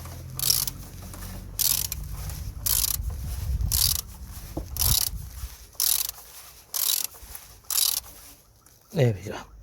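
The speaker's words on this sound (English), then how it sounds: "Gonna hand tighten it to start off with, and then gonna use the ratchet" Ratchet tightening the oil filter cap on a Citroen C3 1.4 during a service, eight loud rhythmic bursts of rapid clicking close up, evenly spaced, after some low handling noise, with a brief voice at the end.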